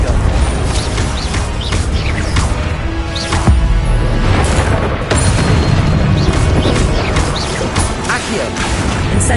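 Confringo spell blasts in Hogwarts Legacy burst and crash over a loud, dense bed of game noise, with several sharp impacts through the whole stretch while a voice casts spells.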